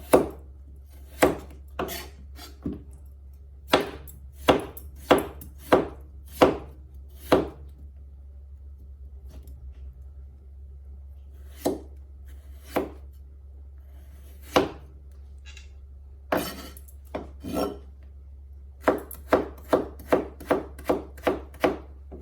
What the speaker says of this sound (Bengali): এই আলুটাও এখন আমি ঠিক ওভাবে যেভাবে কাটছি বিটরুটগুলো সেইভাবে কেটে নেব